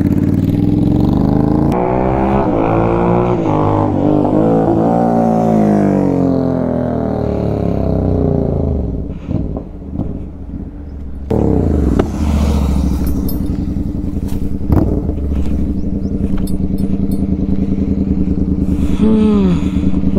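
A motorcycle fitted with a Stage 2 performance air filter rides past, its engine revving up and changing pitch as it accelerates, fading and returning, loud and close at times with a steady engine tone later.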